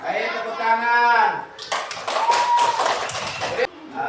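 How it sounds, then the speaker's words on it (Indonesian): Children clap their hands together in a classroom, a burst of quick, dense clapping right after a teacher's spoken prompt, with a voice audible alongside. "Baik, tepuk tangan."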